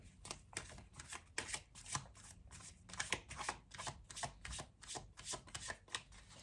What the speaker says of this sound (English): There's too many cards come out, so I'm gonna shuffle again.